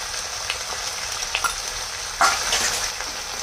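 Crab curry frying in a pan with ginger paste and dried red chili paste, giving a steady close hiss and sizzle with a few sharper spits and crackles, one louder burst near the end.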